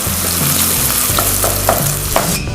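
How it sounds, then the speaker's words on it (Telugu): Onions sizzle and fry with salt in a pan, a steady close crackle with light stirring scrapes and small clicks throughout, no voices present. "ఈ ఉల్లిపాయలు మంచిగా బ్రౌన్ రంగు వచ్చేంత వరకు వేయించుకుందాం."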